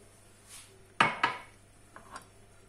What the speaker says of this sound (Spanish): Ponemos una sartén al fuego